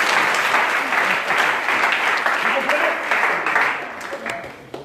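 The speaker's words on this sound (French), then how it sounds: "Can you clap your hands?" Church congregation clapping hands together during a French-language service, a steady dense wash of applause running throughout with voices mixed in.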